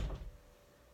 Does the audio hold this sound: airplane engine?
no